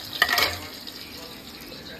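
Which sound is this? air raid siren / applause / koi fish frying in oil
koi fish frying in oil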